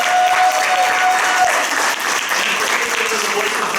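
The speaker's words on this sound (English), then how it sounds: "How about a round of applause for the celebration?" An audience at a community theatre awards night applauds the celebration choir, a dense, loud wash of clapping that holds steady from start to finish.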